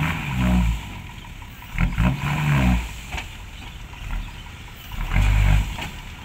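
A ten-wheel dump truck tipping sand at a stockpile yard revs its engine in loud, rough surges, rising and falling several times outdoors with no talk.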